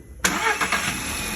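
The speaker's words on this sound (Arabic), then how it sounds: "شغل السياره ابو تيب" A Volkswagen Scirocco with a 122 PS (90 kW) petrol engine, just after a timing chain job, cranks and catches with a sudden start, then settles into a close, even idle.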